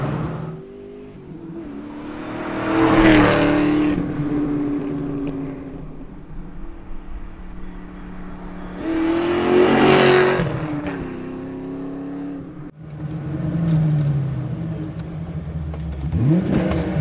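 A 1988 Mustang GT with 29K miles, some mods, on a test drive: the engine rumbles loud and near, repeatedly building to strong revs and then dropping back as it shifts and cruises.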